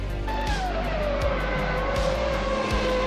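A 2002 Ferrari F2002 Formula One race car at full throttle past the finish line, its high-pitched engine screaming loudly and close, with the tone falling as it passes and a steady roar throughout.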